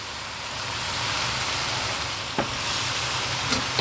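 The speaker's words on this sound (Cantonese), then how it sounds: "當啲醬咧爆香咗之後咧，我哋就灒走" Sauces for a braised taro and duck dish fry noisily in a hot pan, a loud continuous sizzle close up, with a few faint scrapes of stirring.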